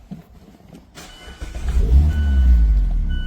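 A Mazda Miata started up: a short starter crank gives way to the engine catching and settling into a loud, steady low idle close by.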